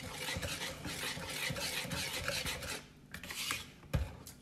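Cornbread batter being whisked with a makeshift whisk, a close, steady scraping and sloshing rasp that runs continuously, eases briefly, then resumes with a sharper knock near the end.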